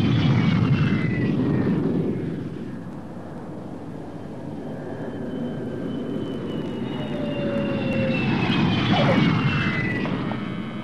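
Several old BAC military jet planes fly in formation in an anime battle scene, producing a loud, steady engine roar that swells and fades with passing whines, with no voices.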